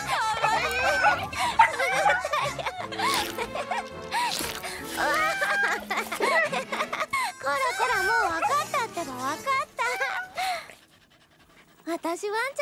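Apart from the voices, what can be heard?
dog panting and whimpering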